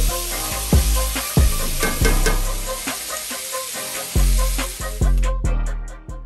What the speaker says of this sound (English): I'm going into a hot cast iron pan with my bacon, my chopped up bacon